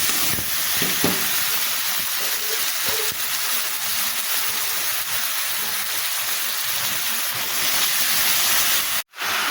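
Fried vegetables go into a pan of lightly fried onions, with a steady, continuous sizzle and some stirring, ending in a brief cut near the end.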